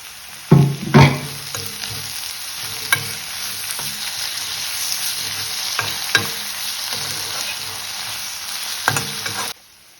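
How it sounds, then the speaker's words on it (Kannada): Onion and tomato with garlic and curry leaves fry in a pan for a squid sukka, giving a steady, close sizzle with a few heavy knocks at first and sharp spatula scrapes throughout, then cutting off abruptly. "ಈಗ ಈರುಳ್ಳಿ ಟೊಮೆಟೊ ಚೆನ್ನಾಗಿ ಫ್ರೈ ಆಗಿದೆ"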